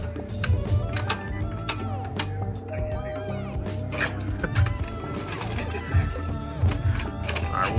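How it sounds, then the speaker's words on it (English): Jack lifting the suspension knuckle of a Honda Civic Si fitted with coilovers, a series of mechanical ratcheting clicks and metallic knocks repeating in a garage, with voices talking underneath. "So he's just jacking the knuckle up."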